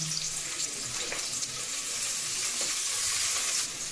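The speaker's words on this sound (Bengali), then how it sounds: "পেঁয়াজটা এইভাবে ভেজে নিলাম" Chopped onions frying in oil with cloves, cardamom and bay leaf. The pan gives a dense, even hiss heard up close, broken by a few faint scrapes of a spoon, with no talking.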